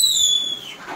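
A voice mimics a firecracker, a high descending whistling squeal that tapers into a soft burst, brief and close.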